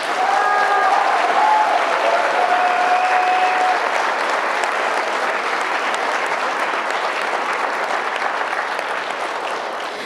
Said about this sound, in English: How about another round of applause for Isabella and Brian